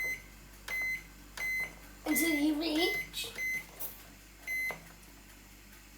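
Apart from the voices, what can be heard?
microwave oven timer beeps as buttons are pressed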